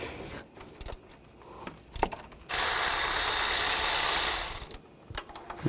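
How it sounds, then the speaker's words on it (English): A ratchet with a 16mm socket loosens the starter bolts on a 2014–2020 Nissan Rogue with a 2.5L four-cylinder. The clicking is close and sparse at first, then turns into a loud continuous burst of rapid clicks for about two seconds before fading. "using a 16mm socket, we're going to take off the bolts going to the starter"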